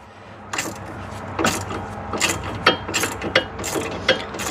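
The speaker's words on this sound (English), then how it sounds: "you're going to need two 13mm sockets, one for the top, one for the bottom, and then just start ratcheting it off" Quick clicking bursts of a hand ratchet with a 13mm socket loosening coilover bolts on a Saturn Sky, sharp close pawl clicks in several uneven runs.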